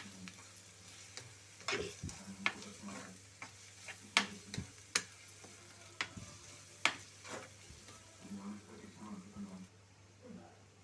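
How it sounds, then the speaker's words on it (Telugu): Ginger garlic paste frying in a pan on a medium flame, a soft steady sizzle broken by scattered clicks and scrapes of stirring, with a voice talking over it. "మీడియం ఫ్లేమ్లో పెట్టుకుని వేపుకోవాలండి"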